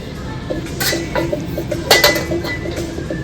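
Metal karahi woks being handled, giving several sharp close clinks and clanks of metal on metal, scattered irregularly across a noisy indoor background.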